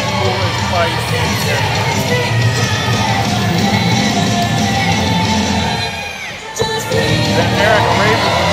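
A crowd cheers and yells wildly at a fight event, the loud roar sustained throughout with whoops and shouts, dipping briefly near the end before surging back.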